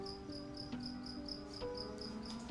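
One cricket keeps up a regular, repeating chirp at close range, moderately loud over a quiet room background with faint low hum, and nobody speaks.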